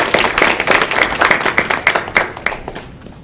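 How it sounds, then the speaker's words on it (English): A crowd gives a round of applause for a speaker at a data science interview talk. The crisp, close claps keep up a quick patter, then thin out and fade near the end. "please give him a round of applause"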